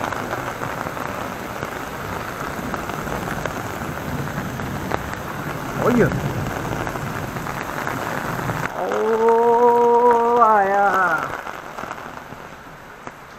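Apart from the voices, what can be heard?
heavy rain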